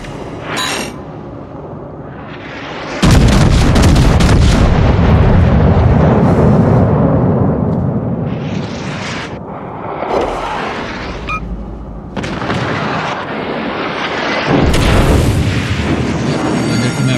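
Battleship guns of the USS Wyoming firing in the naval video game World of Warships: a heavy roaring salvo erupts after a quieter stretch, followed by further booming blasts and rumbling explosions, loud and close, with no speech.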